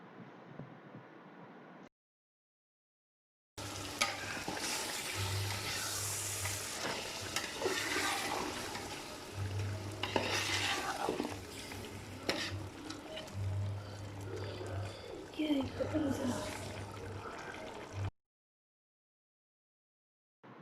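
Country chicken biryani stirred together with its cooking water in a pot, a wet mixing and sizzling sound, close and steady, with short silent gaps before and after.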